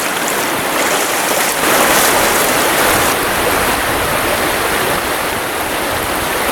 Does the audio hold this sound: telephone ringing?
no